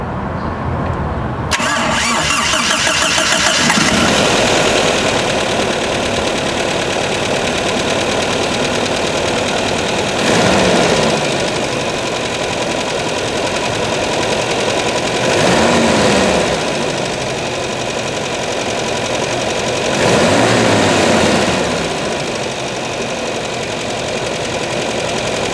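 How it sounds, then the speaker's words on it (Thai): A Toyota Corolla DX starts with a brief cranking whir, then catches and runs loudly up close, with the engine swelling in several revs before settling back to a steady rough idle. "มาฟังเสียงเครื่องยนต์กัน"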